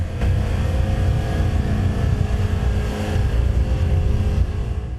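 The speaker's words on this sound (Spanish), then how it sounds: "Las lanchas y canoas deben sortear el banco de arena para entrar y salir." Motorboats and canoes pass through a harbor channel past a sandbar, a steady loud low engine drone with continuous water and motor noise throughout.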